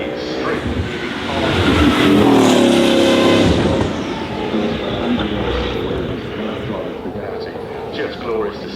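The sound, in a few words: Bugatti Bolide 8-litre W16 turbocharged engine at full throttle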